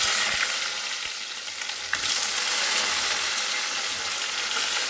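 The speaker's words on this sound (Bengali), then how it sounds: "আর এই হলো বেগুনগুলো আমি ভেজে নেব" Eggplant slices frying in oil, a loud, dense, continuous sizzle up close with a sharp crackle and a jump in intensity midway, no voices.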